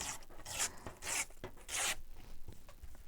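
A blade drawn along a ruler trims paper in three separate rasping strokes, close and fairly quiet, with short pauses between them and no talking.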